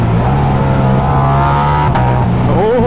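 A Ducati superbike engine runs loud and close as it downshifts, with a steady low drone, a brief burst partway through, and revs rising and falling near the end.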